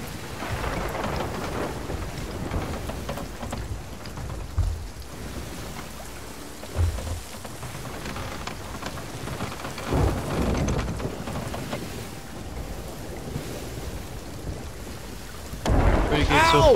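A stormy sea in Sea of Thieves pours out steady heavy rain and wind, with several low thunder rumbles rolling in at intervals and a louder crash near the end.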